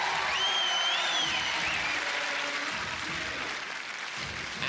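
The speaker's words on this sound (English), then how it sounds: "look at that crowd as one in rhythm" A large studio crowd at the 1992 UK Gladiators TV show, clapping and cheering together as a loud, continuous wash of noise with whistles cutting through on top.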